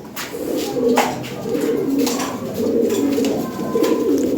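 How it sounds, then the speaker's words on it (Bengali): A pair of big Lahore fancy pigeons coo steadily and close by, their low throaty calls rolling in repeated soft phrases throughout. "এখানে এক পেয়ার কবুতর আছে টয়লা হরি বিগ সাইজের"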